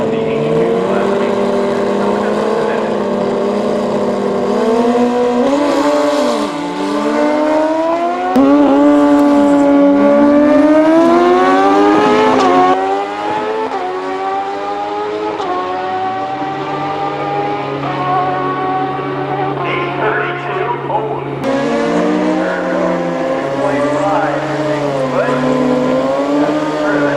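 A turbocharged Hayabusa and a nitrous GSXR street-legal motorbike roar down a drag strip, engines screaming loud and close through rising gear-change sweeps, then fading as they pull away into the distance.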